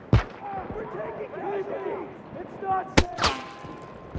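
Battlefield 2042 gunfire on a hardcore Arica Harbor match: a loud close shot opens, then someone talks over game ambience before two more sharp sniper-fire cracks near the end.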